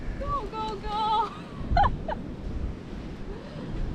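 Gulls calling over the seashore while following a small animal, a few short bright cries early on under steady wind and surf noise, fairly near.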